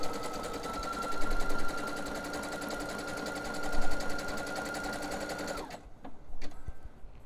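A sewing machine runs a wide zigzag stitch over plush elastic on knickers, a steady rapid mechanical whir with rhythmic needle ticking that stops abruptly near the end, followed by a few clicks and handling sounds.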